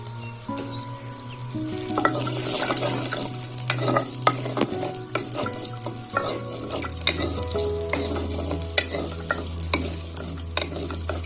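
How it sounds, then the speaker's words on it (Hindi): Garlic sizzles in hot oil with a steady crackle while a spoon stirs and scrapes the pan now and then, no talking. "लहसुन इस तरह काट के इस तरह तड़का लगाना है"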